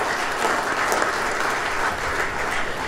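An audience claps to welcome Khofifah, Governor of East Java, on her first visit to the Majelis Agung office, a dense, even round of applause filling the room.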